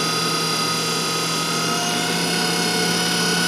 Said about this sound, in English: We're restricting flow to the pump. Now you can hear the noise.